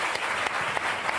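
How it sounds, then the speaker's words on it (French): TV studio audience clapping on a French Sunday variety show, a brief burst of loud, dense applause from a large crowd filling the whole moment. "On les applaudit."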